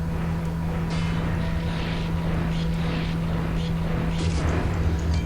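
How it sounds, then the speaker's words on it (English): A mining laser strikes an asteroid in the space game SWG Legends, a steady droning hum with airy whooshing swells throughout, continuous and fairly loud. "we're just going to hit it with our mining laser"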